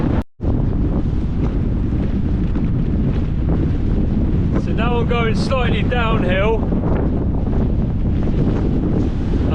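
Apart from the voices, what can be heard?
headwind blowing while cycling in Iceland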